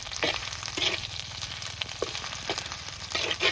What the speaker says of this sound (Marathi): या ठिकाणी आपलं मस्तपैकी बोंबील तळून घेते आहे